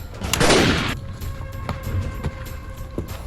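A loud gunshot effect in a Pashto short drama bursts early and rings out into a decaying rumble, followed by a few faint clicks and thuds.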